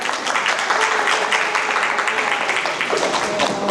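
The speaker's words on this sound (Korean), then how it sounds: "박수로 모실게요." An audience at a Korean talk event claps to welcome a speaker to the stage, with dense, continuous applause and a host's voice mixed in.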